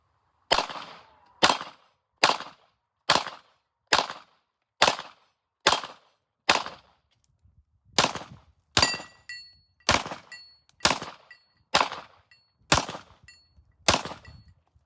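A GForce Exodus RPX9 pistol fires hollow point rounds in a steady string of about fifteen sharp, loud shots roughly one second apart, with a short pause near the middle and no talking.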